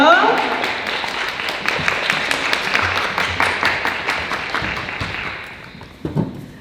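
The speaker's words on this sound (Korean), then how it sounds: "지금 여러분의 큰 박수로 디자이너분들을 함께 모시겠습니다" A crowd claps in sustained applause welcoming designers on stage at a talk concert, gradually thinning and fading, ending with a few scattered claps and thumps.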